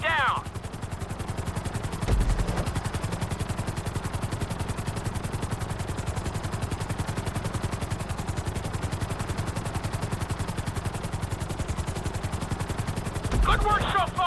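A helicopter in GTA 5 flight school thrums steadily and loudly with a rapid, rhythmic rotor chop, heavy and continuous throughout.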